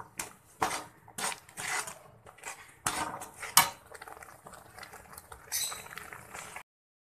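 Semolina is stirred in a pan, heard as intermittent close scraping and clinking of a utensil against metal, with irregular strokes and quiet gaps between them.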